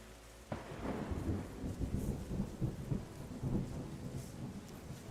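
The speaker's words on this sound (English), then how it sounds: "Now we have rain." Rain and rolling thunder fill a stormy scene in the video game Terra Nil: a sudden thunderclap gives way to continuous rumbling thunder over steady rainfall, with no speech.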